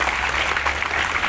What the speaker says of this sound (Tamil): அதுக்கு ஒரு கைத்தட்டல் நீங்க உங்களுக்கே நல்லா